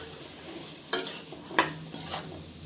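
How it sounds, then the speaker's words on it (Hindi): Peas and carrots being stir-fried for vegetable pulao, a quiet steady sizzle broken by three sharp spoon scrapes against the pan. "और अब इसमें हम मटर डाल देंगे, गाजर, इनको भी कुछ सेकंड हम भून लेंगे।"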